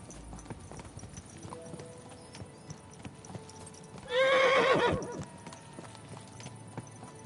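Soft hoof clip-clops and faint background noise in the video game Kingdom Come: Deliverance II, then a horse whinnies loudly and close for about a second.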